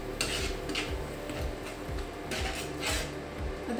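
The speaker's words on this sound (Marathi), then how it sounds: "मसाले लावून मुरत ठेवलेली कलेजी आहे ना ती यामध्ये घालायची आहे" Marinated kaleji (spiced liver) going into hot, spice-loaded oil in a pan, with repeated spoon-and-pan clatter and scraping over a steady background sizzle, close and moderately loud, with no talking.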